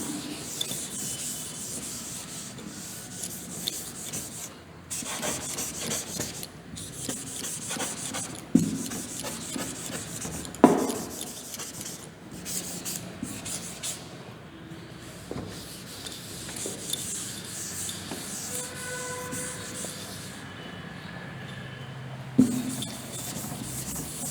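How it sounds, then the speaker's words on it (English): An eraser rubs writing off a classroom board in a long run of scratchy, uneven rubbing strokes. Scattered sharp knocks cut through it, and no one speaks. "I'll erase only this one."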